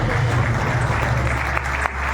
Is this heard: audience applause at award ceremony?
yes